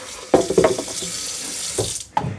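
Tap water runs into the dock of a Eufy S1 Omni Pro robot vacuum during rinsing, with a steady splashing hiss and a few louder bursts where the stream strikes the plastic basin, close by.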